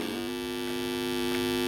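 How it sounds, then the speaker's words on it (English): Constant droning hum of the plane in the Atari 2600 game River Raid on a 2004 Jakks Pacific Activision plug-and-play unit, a loud, steady tonal buzz held unchanged from start to finish. "Just that constant background hum just feels off."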